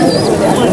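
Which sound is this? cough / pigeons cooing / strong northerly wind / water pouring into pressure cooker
pigeons cooing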